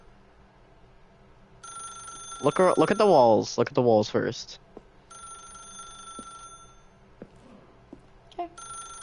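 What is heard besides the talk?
telephone ringing in video game The Stanley Parable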